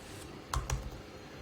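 Two quick, quiet keystrokes tap on a computer keyboard close by, a brief pair of clicks over faint background hiss.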